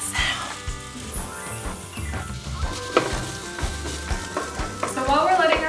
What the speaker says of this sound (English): So while we're letting our onions cook down